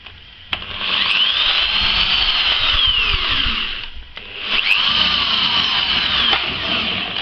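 A power drill whines loudly and steadily, pausing briefly before starting again, its pitch wavering as it bites into material.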